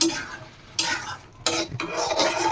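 Three eggs being stirred into spiced masala rice in a pan with coconut milk, close scraping and clinking of a utensil against the pan in bursts, with a faint sizzle underneath and no talking.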